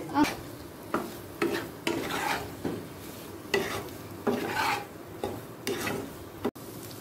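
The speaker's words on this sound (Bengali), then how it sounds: "আপনারা আপনাদের পছন্দ মতো তেল ঘি দিয়ে রান্নাটা করে নেবেন। দিয়ে দিলাম পনিরের টুকরো।" Paneer pieces frying in oil and ghee in a pan, with repeated scraping strokes of a spatula every second or so over a steady low sizzle, close and fairly loud.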